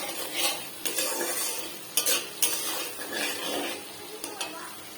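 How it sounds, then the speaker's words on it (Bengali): Spice paste for fish curry fries in a pan while being stirred, with bursts of sizzling and repeated sharp spatula scrapes against metal, close and uneven in rhythm. "খুব ভালো করে মশলাটাকে আগে কষিয়ে নিতে হবে"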